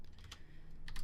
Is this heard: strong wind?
no